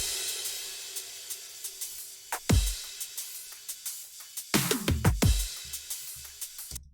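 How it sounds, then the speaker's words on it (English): An electronic drum pattern with sampled kick drums and crash cymbals runs steadily at moderate volume, with hats ticking and deep kick hits building to a busier burst near the end. "A normal drum pattern."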